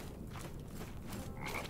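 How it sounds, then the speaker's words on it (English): Frogs croak in the swampy world of the video game Mortal Shell, with repeated soft ambient croaks over a low background bed, quiet and continuous. "Yeah, there was frogs."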